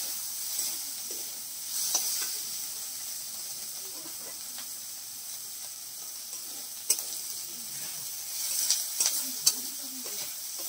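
A spinach and lentil mixture is sautéed and stirred in a pan, a soft steady sizzle and hiss with intermittent spoon scrapes and small clinks, close but fairly quiet, no talking.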